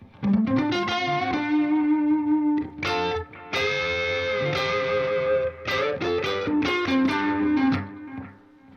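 An electric guitar on the neck pickup plays a distorted solo built from chords, a creamy sustained tone with held notes, quick runs and brief pauses, loud and alone.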